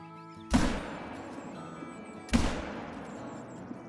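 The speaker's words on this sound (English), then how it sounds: "we can finally get a shot off on at least one of these guys" Two loud rifle shots ring out at white-tailed deer in a hunting game, each a sharp crack with a long fading tail, spaced roughly two seconds apart over quiet outdoor ambience.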